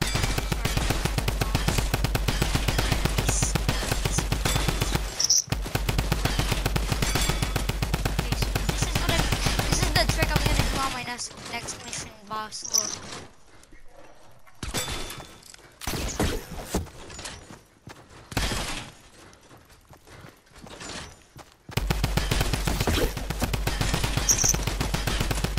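A gem gun in Fortnite firing at targets on a firing range: rapid sustained automatic fire, loud and dense, broken by a stretch of scattered single shots and pauses before the steady stream resumes.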